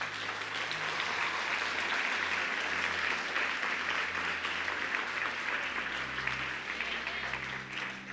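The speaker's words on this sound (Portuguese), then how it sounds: "Eu gostaria que você aplaudisse a Deus." A church congregation claps during a sermon, a continuous, even round of applause that sounds somewhat distant and subdued, with a low hum underneath.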